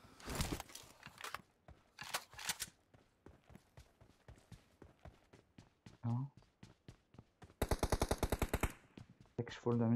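Gunfire in PUBG Mobile: a long run of rapid, evenly spaced single shots, broken by louder bursts of automatic fire near the start and a dense, loud burst toward the end, with brief game voice lines.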